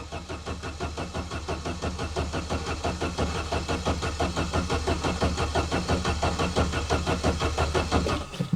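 SAAB 900 Turbo with K-Jetronic fuel injection cranking up close, a steady, even train of rhythmic engine pulses that keeps going for the whole stretch without clearly settling into an idle.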